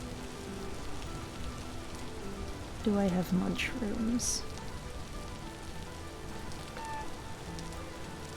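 Steady rain falls across a rural hill setting in the video game Vintage Story, a constant soft patter throughout, with a voice speaking over it partway through.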